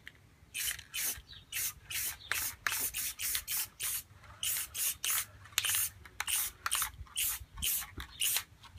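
Repeated short bursts of aerosol spray hiss, close and loud, in an uneven rhythm of quick puffs with brief pauses between.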